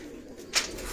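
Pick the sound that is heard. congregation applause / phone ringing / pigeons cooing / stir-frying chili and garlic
pigeons cooing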